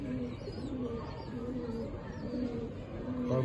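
Low, repeated cooing from fancy pigeons in a loft carries over a steady rumbling background, the soft throaty calls recurring every second or so.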